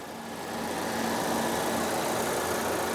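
A 2020 Audi Q5's 2-liter turbo engine idles in a steady, even hum with a soft broadband hiss, heard close up and alone.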